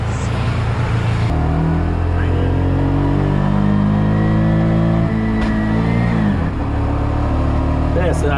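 A tuk-tuk engine revs and drops through gear changes on the road in Sri Lanka, a loud, close motor whose pitch climbs and falls with each shift while people talk over it.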